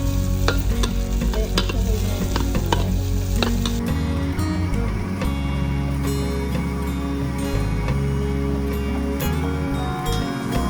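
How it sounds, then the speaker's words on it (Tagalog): An egg frying in a pan, a continuous close sizzle with scraping stir sounds running throughout, and no one speaking. "first nating niluto yung egg"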